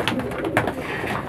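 Pigeons in a loft give soft, close cooing in repeated throaty pulses, with a light rustle and a brief click among them.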